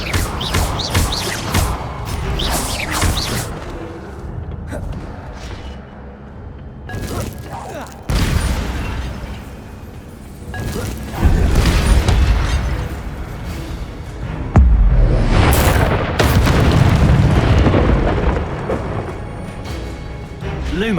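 Incendio fire spells cast in Hogwarts Legacy, a series of booming, whooshing bursts and thuds spaced irregularly amid game music and ambience, with a voice talking over parts.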